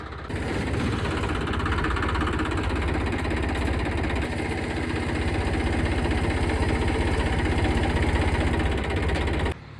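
A large tractor with oversized tyres runs its engine while pulling, a loud, steady, close diesel drone with a rough knocking throb. It continues unbroken for about ten seconds, with no talk over it.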